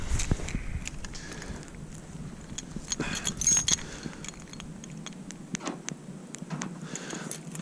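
Vehicle keys with a key fob jingle and clink in scattered bursts, close by, with soft shuffling movement and a low background rumble, on a snowy winter day.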